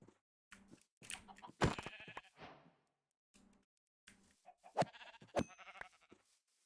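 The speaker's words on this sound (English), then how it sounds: "Why is there so many sheep? They're so annoying." Sheep bleat repeatedly in a video game, short calls coming in separate bursts with gaps of silence between them, fairly close and moderately loud.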